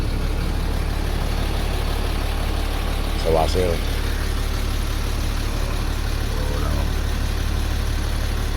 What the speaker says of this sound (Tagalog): Itong makina natin, bukas na ito